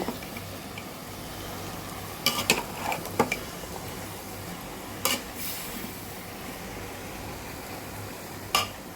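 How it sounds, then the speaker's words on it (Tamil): Brinjal, drumstick, plantain and beans sautéing in a pan in a village kitchen give a faint low sizzle under scattered clinks and scrapes of a spoon against the pan. "கத்திரிக்காய், முருங்கைக்காய், வாழைக்காய், மொச்சக்காய் எல்லாம் போட்டு நல்லா வதக்கிக்கோங்க."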